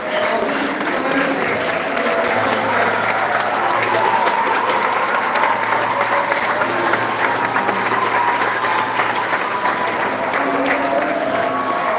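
Staff and teachers from a preparatory school receive sustained applause from an audience at a live event, the clapping steady and even throughout with a faint low hum beneath it.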